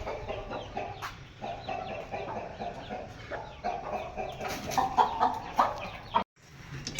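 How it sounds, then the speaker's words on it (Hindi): Aseel chickens and chicks clucking and chirping in a backyard poultry setup with cages, a busy close-up chorus of overlapping calls with short peeping notes and rustling, ending in a brief cut. "बाकी मुर्गों का दिखाता हूँ, काफ़ी इजाफा हुआ है पहले से बच्चों में।"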